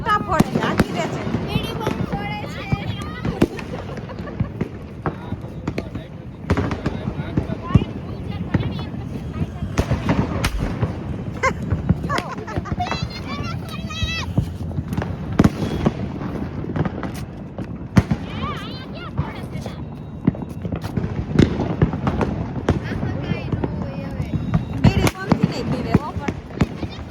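Big Diwali firecrackers burst in repeated loud cracks and bangs through a family celebration, with people talking and shouting throughout.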